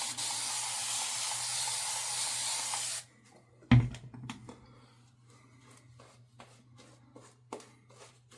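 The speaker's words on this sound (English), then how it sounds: "Let's get the face wet and let's go for the second pass." Water splashes and runs steadily as a face is wetted before a second shaving pass, loud and close for about three seconds, followed by a sharp knock and quieter scattered rustles and drips.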